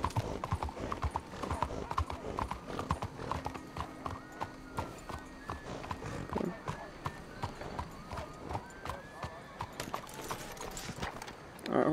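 Horse hooves clip-clop steadily in the Western video game Red Dead Redemption 2, an even, close walking rhythm with an occasional whinny, while someone talks over the steps.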